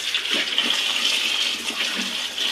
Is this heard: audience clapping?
no